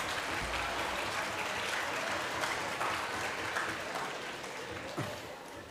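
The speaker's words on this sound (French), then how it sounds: "vous aurez l'occasion d'applaudir 2 fois" An audience applauds at a communications talk, a sustained, even round of clapping that tapers slightly toward the end.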